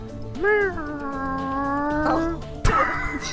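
A cat gives a long, drawn-out meow with a rising then steady tone, lasting about two seconds, followed by a short rustle or bump and a brief second vocal sound, all fairly close with faint room noise.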